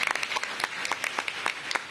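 Audience applauding teachers and staff at a school event, a crisp burst of many hands clapping nearby with sharp individual claps standing out.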